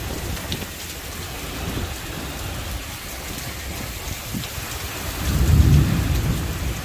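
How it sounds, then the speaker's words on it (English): Heavy rain pours steadily during an Illinois thunderstorm, a dense continuous hiss close by, with a deep roll of thunder swelling louder near the end. "It's raining so hard."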